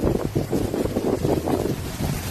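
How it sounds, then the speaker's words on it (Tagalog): Strong storm winds in Cancun, Mexico gust hard against the microphone in loud, buffeting roars that rise and fall, with a low rumble underneath. "Meron pa yang kidlat na sinabayan ng malalakas na hangin."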